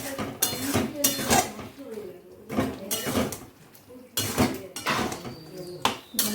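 Ghugni being stirred in a pan, with repeated scraping and clanking of a spoon against metal in an uneven rhythm, loud and close.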